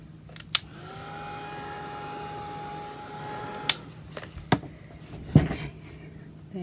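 A heat tool sets Gelatos and Distress inks on autumn craft tags, giving a steady, moderately loud blowing whir for about three seconds, framed by a few sharp clicks and taps.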